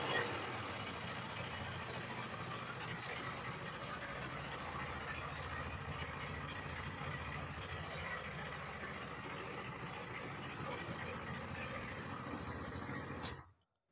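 A used 2023 KTM Duke 390 motorcycle, about 16,000 km on the clock and in good condition, idles with a steady low rumble for several seconds before cutting off abruptly, fairly quiet and with no speech over it.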